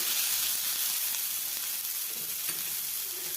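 Onion and green chillies fry steadily in a pan, making a continuous close hiss and sizzle with faint stirring underneath. No one speaks.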